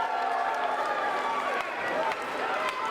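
Loud wrestling arena crowd roaring and cheering for the Rock and Roll Express, a dense, sustained wash of voices with scattered claps, steady throughout under a commentator talking.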